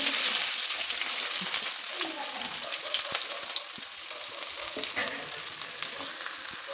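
Mustard seeds, green chillies and onion fry in a generous amount of oil, a loud, dense crackling sizzle heard close up throughout, with light stirring scrapes mixed in.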